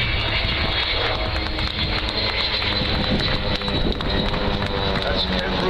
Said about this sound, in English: You can go this slowly to keep position with these two little aircraft. In fact, they're making more noise than she is.